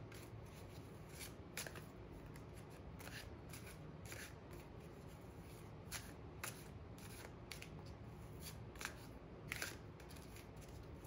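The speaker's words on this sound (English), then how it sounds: "We are shuffling the tarot decks and dispersing into three groups to get readings" Tarot card decks are shuffled close by in a quiet room, with a rapid series of crisp riffling bursts at a fairly regular rhythm.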